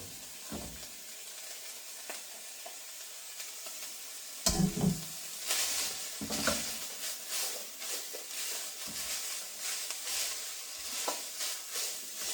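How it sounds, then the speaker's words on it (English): Vegetables stirred into a pan for beef chili, hissing and sizzling steadily with occasional clinks and scrapes of the spoon, close and moderately loud, no talking. "We're going to stir in the vegetables."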